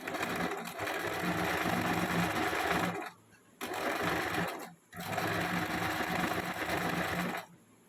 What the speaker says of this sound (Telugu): ఇప్పుడు స్టిచ్ చేస్తాను చూడండి.